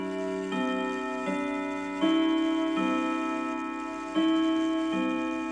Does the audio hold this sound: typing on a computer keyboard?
no